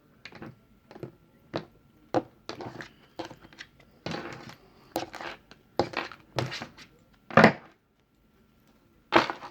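A deck of tarot cards being cut and shuffled by hand, a run of crisp close card snaps and flicks in irregular bursts with short pauses, no talking.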